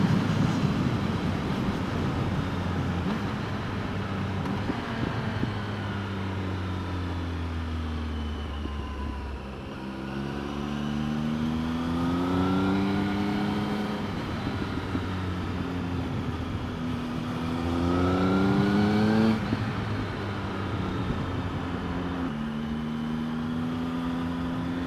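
A Triumph Speed Triple R motorcycle rides along with its engine droning steadily close by, the pitch climbing and dropping repeatedly as the bike accelerates and shifts through gears.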